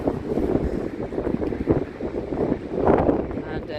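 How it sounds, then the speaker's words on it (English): Strong wind buffets the microphone at Glasnevin Cemetery in Dublin, a continuous rough rumble with gusts swelling and easing, loud and close throughout. "it is certainly very, very windy"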